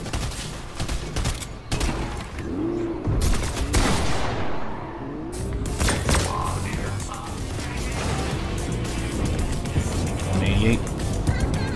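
Rapid gunfire from a robot in a Fortnite-style Tony Stark video game, dense bursts of shots over engine noise and game effects, with someone talking throughout.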